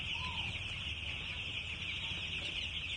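Many chickens crowded inside a poultry farm shed keep up a constant, dense clucking chorus, steady and fairly faint, with no voices.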